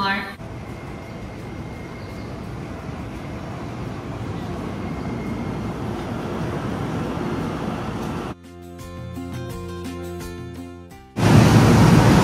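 A train ride from Ikebukuro to Hon-Kawagoe, heard as a continuous loud rumble and rush of a moving carriage, then a quieter stretch with tonal chimes before the rumble returns loudly.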